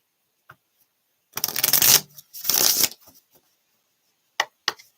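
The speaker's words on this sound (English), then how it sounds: "One more shuffle." A tarot card deck is shuffled in two brisk, close papery bursts, each lasting about half a second. A few light taps and flicks of the cards follow.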